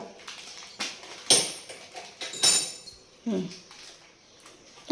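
Spoons clinking at a sink, set among intermittent talking in a village setting; a few scattered metallic clinks and clatters, one sharp cluster near the middle and another later, each brief and fairly close.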